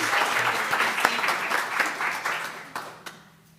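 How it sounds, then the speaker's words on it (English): An audience at a school board meeting gives a round of applause, steady dense clapping from many hands that gradually thins and fades toward the end. "Big round of applause, please."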